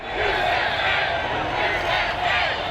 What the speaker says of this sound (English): President Trump in Florida today, revving up the crowd as Grand Marshal at the Daytona 500.